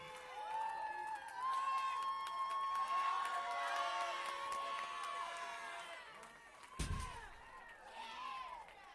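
Crowd noise at a high school powerlifting national meet, a sustained roar of cheering and whistles from a large audience, loud and continuous, with a sharp slam-like thud near the end as the noise begins to fade.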